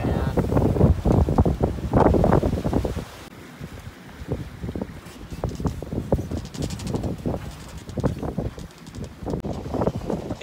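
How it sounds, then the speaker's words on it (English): Strong wind roars and buffets across the microphone at sea, with surging water and rhythmic creaks and thumps from a moving sailing catamaran. "It got super windy"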